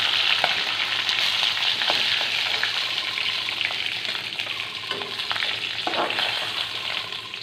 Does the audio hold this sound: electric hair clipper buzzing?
no